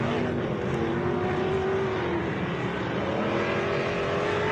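Off-road race cars battle around the course at the 2017 MetalCloak Stampede, engines droning steadily loud with a rising and falling harmonic whine as several vehicles push hard.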